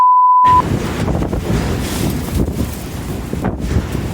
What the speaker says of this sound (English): I think we're in a tornado